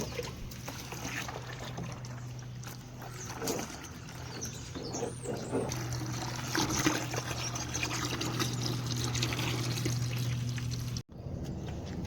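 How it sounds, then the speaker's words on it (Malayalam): A bucket is filled with water outdoors, a steady pouring and trickling stream running for about eleven seconds with birds chirping faintly in the background, then briefly cutting out. "നിറച്ച് വെള്ളം എടുക്കാവേ"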